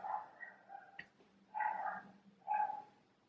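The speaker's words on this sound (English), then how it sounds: "whether my dog is barking or not" A pet dog at home barking in short bursts, moderately close, with gaps of quiet between barks and no talking.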